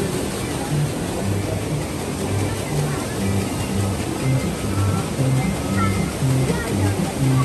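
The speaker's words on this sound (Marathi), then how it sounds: "साईडने धबधबे तयार केले आहेत" An artificial waterfall at Disneyland rushes in a loud, constant wash of falling water close by, with people talking over it throughout.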